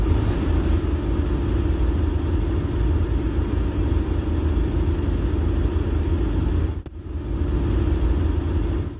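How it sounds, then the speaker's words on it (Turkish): A sports car speeds along a road closed to traffic for a no-speed-limit event, its loud, close engine roaring steadily with a brief dropout near the end before the roar resumes. "Spor otomobil de o etkinlikte sürat yaptı."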